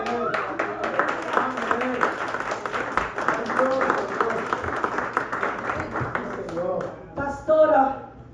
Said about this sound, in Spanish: Dale el aplauso fuerte.